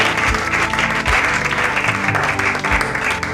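A church congregation claps in loud, dense applause during a French-language worship service, sustained and near, with voices mixed in underneath.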